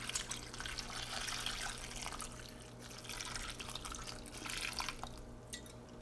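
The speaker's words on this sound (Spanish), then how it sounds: "la vamos a cubrir de agua" Tap water running and splashing into a cooking pot to cover cauliflower, a steady trickling pour with dripping and bubbling texture, close and fairly quiet, with no talking.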